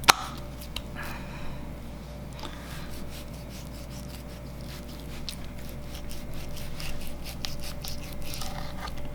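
A knife slices pork neck into small pieces on a board for Thai grilled pork, giving a run of quick, soft cutting strokes and scrapes that repeat irregularly over a low background hum.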